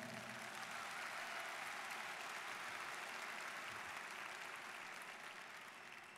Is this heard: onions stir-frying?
no